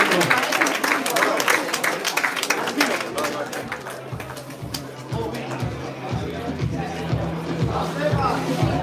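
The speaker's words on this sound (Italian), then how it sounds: "lasciamo un applauso alla gente del canale del giorno" Crowd applause ringing out at an Olympic-style amateur boxing event in Verona after the third round ends, a sustained dense clapping that continues through the stretch, with an announcer's voice talking over it.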